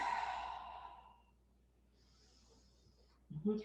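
A slow exhale during a yoga forward fold, a soft breathy sigh fading out over about a second, then quiet room tone before a short rustle.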